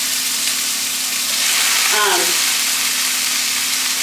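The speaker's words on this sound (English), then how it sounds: "Putting in my pineapple. I put a little olive oil in the pan." Pineapple sizzles in olive oil in a hot pan, a steady bright frying hiss that swells slightly as the fruit goes in, with a brief voice in the middle.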